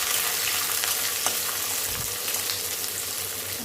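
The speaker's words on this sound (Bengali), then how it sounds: "এবার কুচি করে রাখা গাজর আর ক্যাপসিকামটা দিয়ে দিলাম" Chopped carrots and capsicum fry in white oil with whole garam masala, a steady close sizzle with faint stirring scrapes throughout.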